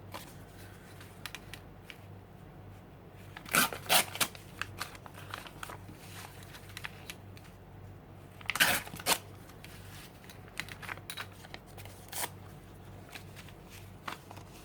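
Paper scraps being torn by hand for an art journal collage, a few sharp ripping bursts with quieter rustling and handling between them, close and fairly soft, no talking.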